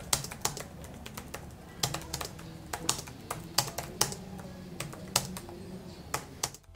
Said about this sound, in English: the sound that it makes when you hit the keys is extremely satisfying.